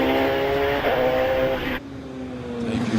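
A Gould GR55B hillclimb race car with a Cosworth-based Nicholson McLaren V8 screams at high revs, then cuts off abruptly as the tone drops, loud and close with no one speaking, at Harewood.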